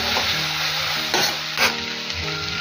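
Tomatoes frying and sizzling in a pan for ladyfinger (okra) curry, stirred and mashed with a ladle, giving a steady close sizzle with scraping strokes on top.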